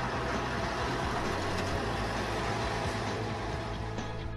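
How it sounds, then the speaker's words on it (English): A trolley bus drives along, giving a steady, continuous rumble of road and traffic noise that stays even throughout, with no voices. "Trolley bus."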